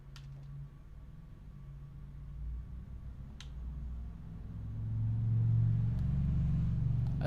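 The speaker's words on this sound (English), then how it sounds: "That's a pretty loud truck." A truck outside passes with a low, swelling rumble that grows louder toward the end, heard faintly behind quiet ambient sound with a few small clicks.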